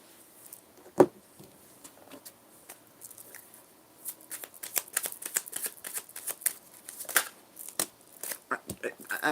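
Tarot cards are riffled and shuffled close up, a quick run of papery flicks and snaps that grows busier toward the end.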